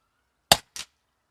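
Two sharp shots from a Daystate Wolverine R Hi-Lite air rifle, a loud crack followed about a quarter second later by a second, softer report, in an otherwise quiet setting.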